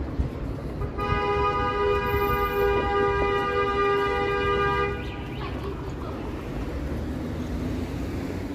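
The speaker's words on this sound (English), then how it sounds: "A lot of random honking going on." A car horn blares in Toronto city traffic during late-afternoon rush, one long steady tonal blast of about four seconds, loud and nearby, over continuous street rumble and traffic noise.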